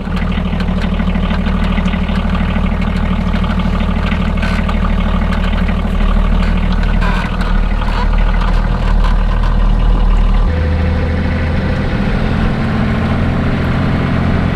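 A camper van's engine runs in a steady, loud, low idle throughout, and its tone shifts and deepens near the end.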